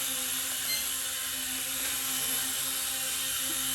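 A Dynalog DR-DF100B drone flies an automatic circle, giving off a steady, high-pitched propeller whine with a constant buzzing hum and no talking.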